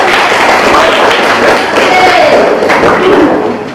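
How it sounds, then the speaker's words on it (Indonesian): A classroom of students clapping in applause, a dense, loud patter of hands filling the room close by, with some chatter mixed in. "Tolong tepuk tangan."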